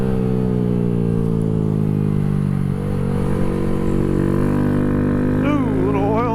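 A Honda Grom motorcycle with a high-compression piston, cam and tune ridden at half throttle, the engine holding a steady droning whine with slight pitch drift, close and loud over wind, with a brief voice near the end.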